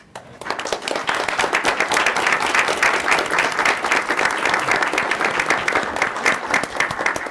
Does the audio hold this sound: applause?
yes